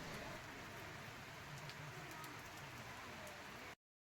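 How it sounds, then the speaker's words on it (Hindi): Steady rainfall on the Madhyamaheshwar trek in the mountains, a constant soft hiss with scattered drop ticks, heard alone before cutting off abruptly. "आप फिलहाल मध्यमेश्वर द्वितीय केदार में होने वाली वर्षा का आनंद लीजिए"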